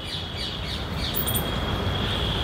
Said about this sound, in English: You can only hear birds chirping.